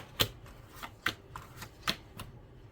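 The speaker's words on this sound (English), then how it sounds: "see, we got some nice shuffling going on" A deck of tarot cards being shuffled, with several crisp riffling bursts spaced out against a quiet background.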